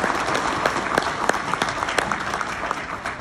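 Dense, steady applause from a banquet audience at a Corvair enthusiasts' gathering, many hands clapping at once with a few louder individual claps standing out, sustained and fairly close.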